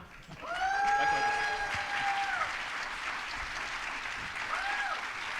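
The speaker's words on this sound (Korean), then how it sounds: "다들 환호 주세요." An audience at a startup demo day applauds steadily and cheers, with whistles rising over the clapping near the start and again close to the end.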